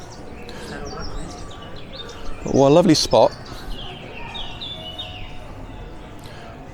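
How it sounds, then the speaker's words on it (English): Birds chirp faintly in a shaded, leafy town square in Pisa, a university town, with scattered high calls sounding under a voice as he talks. "Hear the birds singing?"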